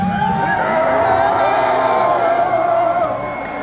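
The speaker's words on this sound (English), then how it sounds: "You're all cheering, but none of you are doing it." A crowd at a Meshuggah metal concert cheers and whoops in a dense, steady roar with no break, loud and close, easing slightly near the end.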